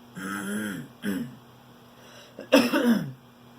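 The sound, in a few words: throat clearing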